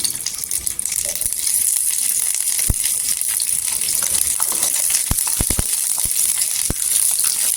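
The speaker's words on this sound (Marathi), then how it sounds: "इथे लसणीला दाबून दाबून भाजायची" Garlic pressed down and roasted in a spoonful of oil in a pan gives a continuous close frying hiss, broken by a few sharp clicks and taps of the utensil pressing the cloves.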